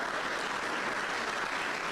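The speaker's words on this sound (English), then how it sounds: "Give Mrs. Good a round of applause." Steady applause from an audience honoring Mrs. Velma Good at the Men Making a Difference event, a dense, even wash of clapping lasting the whole moment with no voices over it.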